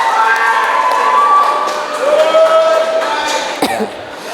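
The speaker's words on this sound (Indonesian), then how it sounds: "Tepuk tangan untuk SMA Boja semuanya." A school crowd from SMA Boja cheers and shouts over scattered clapping at a democracy workshop, a dense, lively burst of voices throughout with a sharp clap near the end.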